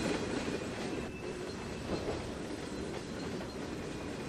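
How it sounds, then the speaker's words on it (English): Simulated train rolling along track in the Trainz 2019 game, a continuous rumbling wheel noise with a faint high flange squeal on a curve, steady and moderately distant. "I can hear a little bit of a flange squeal there"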